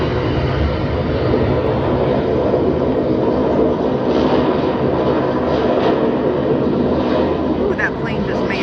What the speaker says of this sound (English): that plane just made it